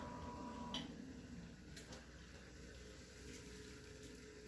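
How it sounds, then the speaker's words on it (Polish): A boiler fuel-loading unit pump on an Atmos DC18S boiler runs with a low, steady mechanical hum and faint ticking, quiet and continuous, with occasional soft clicks. "Taki jest dźwięk ladomatu"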